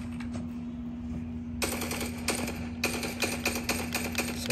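Automatic weapon fire in the mobile video game Call of Duty Mobile, heard as a short burst followed by rapid repeated volleys over a steady electronic hum, with no talking.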